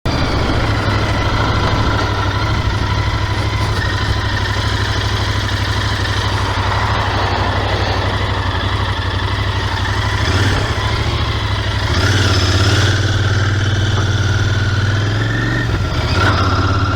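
A motorcycle engine idles steadily and close up before being run in, with a continuous low rumble that swells slightly in revs toward the end.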